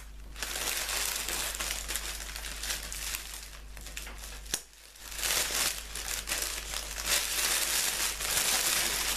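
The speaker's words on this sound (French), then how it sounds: "Donc je vais prendre mes petits ciseaux." Packaging crinkles and rustles as a box holding a large candle is opened with small scissors, quiet and close, with irregular crumpling throughout and a brief pause midway.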